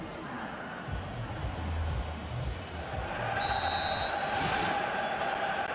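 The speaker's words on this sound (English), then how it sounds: "Whistle goes, and we start the second half." A referee's whistle starts the second half of a West Ham United vs Chelsea Premier League 2018/19 football video game match: a short, bright whistle tone over steady stadium crowd noise.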